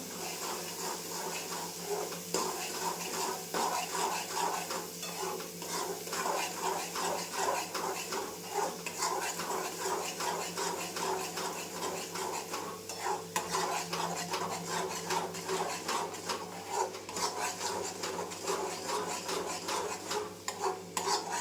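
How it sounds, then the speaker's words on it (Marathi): Masala is sautéed in oil in a pan while being stirred for fish curry, giving a steady scraping and rubbing of the spoon with a faint sizzle underneath, continuous and close. "एक 5 मिनिटं तेलात परतून घेऊया."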